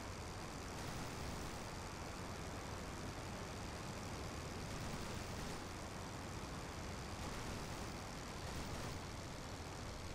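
The rotary engine of a Sopwith Camel biplane in the flight game Rise of Flight drones steadily as a loud, continuous, broadband roar with no pauses.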